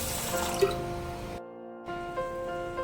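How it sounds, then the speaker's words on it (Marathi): Old thick rice grains being rinsed and rubbed by hand in water, with close drips and splashes of water, a brief pause partway, then more gentle watery trickling. "आता हा तांदूळ आपल्याला 2 ते 3 पाण्याने स्वच्छ असा धुवून घ्यायचा"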